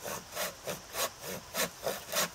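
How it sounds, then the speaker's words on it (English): A hand saw cutting through wood with steady back-and-forth strokes, about six even pulls and pushes, close up and alone, during a youth outdoor field day. "When you just can lay it in there, and that's when you start sawing."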